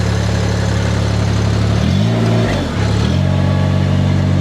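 Compact loader engine idling steadily, then a brief shift in pitch as the machine is put in reverse before settling back to a steady drone; close and loud, no talk.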